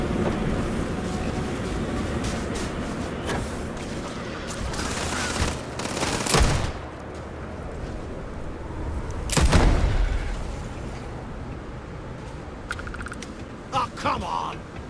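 Gunfire in the video game Starfield: steady rattling combat fire under urgent in-game voices, with a couple of louder bursts standing out from the din.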